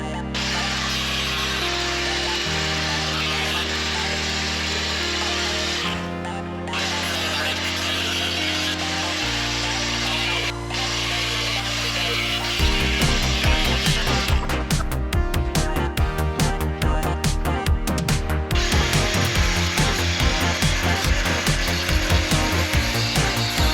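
Power saw cutting through a Harley Sportster rear fender along a scribed line, a steady loud whine that turns harsher and more rasping partway through as the blade bites into the metal, with no talking.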